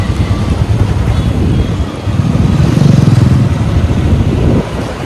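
A motorcycle cruising along a highway on a Sunday trip, a low engine rumble mixed with heavy wind and road noise, loud and continuous, swelling slightly midway before easing off.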